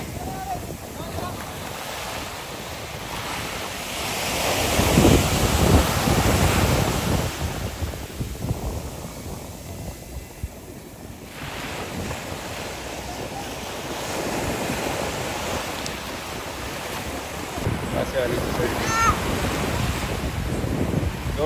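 Ocean surf at a surfing beach in Baler in the late afternoon, waves rolling and breaking in a continuous wash with heavy wind buffeting the microphone, surges building and receding, and people talking faintly underneath.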